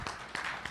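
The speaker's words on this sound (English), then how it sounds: "Round of applause" A short burst of audience applause, dense and steady, heard briefly and on its own.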